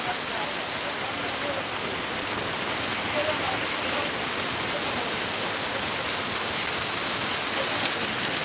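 Heavy night rain in Sylhet, Bangladesh, a dense, loud, unbroken hiss of downpour pounding surfaces that holds steady from start to finish with no other sounds.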